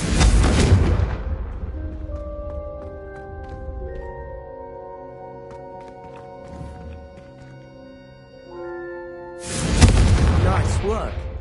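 Confringo spell blasts in Hogwarts Legacy: a loud, booming fiery explosion opens and decays over about two seconds, game music plays softly, then a second blast erupts near the end and rumbles out.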